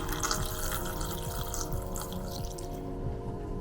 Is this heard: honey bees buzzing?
no